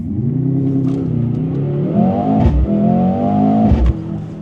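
A Mercedes-AMG GLC 63 S E Performance plug-in hybrid launches hard in race mode, its engine roaring loudly up through the revs with quick gear changes breaking the pull, close and continuous with no talk.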